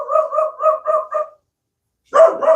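A nearby dog gives a rapid run of five barks, then falls silent, then lets out one louder bark. The barks are close and clear, with no talking.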